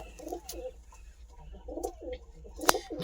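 Soft, low pigeon coos repeat in short rounded phrases, fairly close, with a sharp clatter near the end and quiet background noise.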